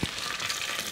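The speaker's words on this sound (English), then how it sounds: "Look at the sizzle on that." Close, crackling sizzle of hot food in an open air fryer drawer, a brief bright hiss with faint popping.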